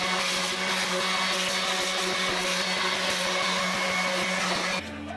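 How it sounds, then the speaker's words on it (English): Electric sander grinding along the edges of a wooden piece, a steady loud motor whine with a gritty rasp that holds throughout, then drops as it winds down at the end. "I did better than sandpaper. I have like actual sander. So I'm gonna sand all the edges down"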